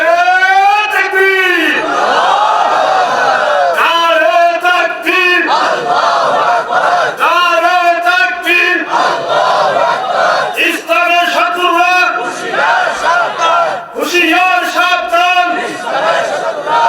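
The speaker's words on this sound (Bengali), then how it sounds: "মাইক হাতে নিয়ে মুসলমানের আওয়াজে একজনে নারায়ে তাকবীরের আওয়াজ দিবেন" A large crowd at an Islamic religious gathering chants the takbir in unison, with a leader calling over a microphone and the mass of voices answering in loud, repeated, rhythmic bursts.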